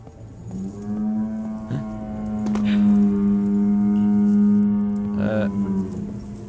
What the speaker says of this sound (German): Klang wie eine Kuh.